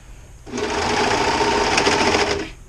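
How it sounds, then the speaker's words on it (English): A sewing machine stitches across a hop bag in one continuous, fast mechanical run of about two seconds, starting and stopping abruptly against a quiet background. "She'll sew across it."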